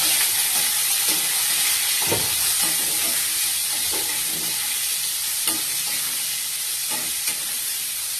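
Boiled potatoes and peas sizzle steadily as they fry in a kadai, with repeated scrapes and knocks of a spoon stirring them, close and continuous, with no talk.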